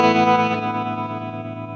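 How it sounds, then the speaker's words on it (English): Electric guitar through a Fender Tre-Verb reverb pedal, heavily effected with a lush reverb wash, a single sustained chord decaying smoothly over a couple of seconds. "even though you've got quite a lot of effect on the guitar, you can still hear everything"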